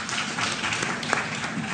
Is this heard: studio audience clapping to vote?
yes